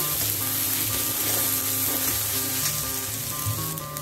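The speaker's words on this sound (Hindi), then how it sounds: "अब हम डाल देते हैं ये लहसुन अदरक का पेस्ट ये डाल के भी गोल्डन ब्राउन करके भूनना है मसाला को" Ginger-garlic paste frying with golden-brown onions in a pan, a steady close hiss of sizzling oil with faint stirring underneath, continuous and fairly loud, no voices.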